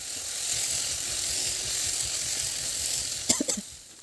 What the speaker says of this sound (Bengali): এখন পনিরের সাথে সবজিগুলোকে খুব সুন্দর করে কষে নিতে হবে।